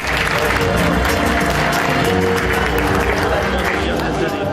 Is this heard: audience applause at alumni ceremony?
yes